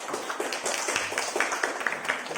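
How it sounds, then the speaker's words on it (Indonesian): A small classroom group claps together in a quick, scattered round of applause, moderately close and steady for a couple of seconds with a little background voice. "Ya, berikan aplaus."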